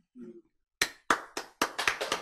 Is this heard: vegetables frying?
no